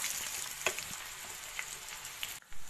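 Chopped onions fry in hot oil in a pan for a Dhaba-style chana dal, giving a steady, dense sizzle with a few small pops and stirring clinks, close and continuous, then a brief drop before it resumes.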